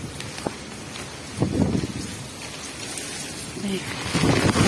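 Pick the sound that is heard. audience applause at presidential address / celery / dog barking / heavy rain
heavy rain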